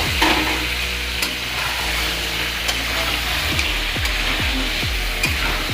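Boiled meat being stirred and fried in a pan, a steady sizzle with repeated scraping strokes of a spoon against the pan, close up and alone with no voices.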